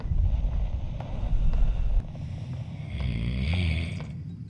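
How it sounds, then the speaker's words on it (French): Deep, rasping snoring from an unseen sleeper in a French-language horror video game, rising in slow loud grunting swells over a constant low wind-like rumble. "Qui ronfle ou quoi là?"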